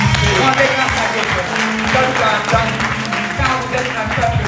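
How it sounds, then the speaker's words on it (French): Congregation clapping at a French-language church service, a loud sustained wash of applause with a voice speaking over it and music-like tones underneath. "que vous tous ici, que vous puissiez applaudir pour vous"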